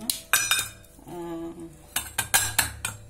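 A ground banana mixture scraped and tipped into a vessel, with a run of metal spoon clinks and knocks against the pots, loud and close, broken by a short quieter pause.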